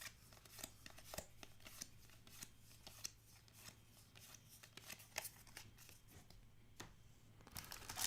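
Paper wrapper of a 2022 Bowman Draft Jumbo trading card pack being torn and crinkled, a string of quiet close rips, rustles and card-handling clicks over several seconds without speech.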